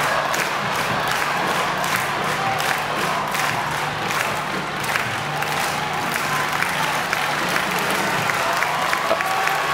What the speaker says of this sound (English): Again, you can hear the Mitsui Sumitomo Kaijo cheering section,